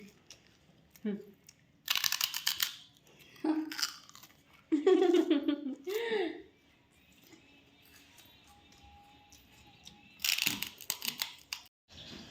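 Crunchy food is chewed close by in a few separate bursts of crisp crunching, with quiet gaps in between and a voice heard briefly.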